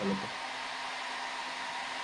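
A hair dryer used as a heat blower on the adhesive of a motorcycle helmet runs steadily with a loud, even whoosh throughout, with a brief thump at the start.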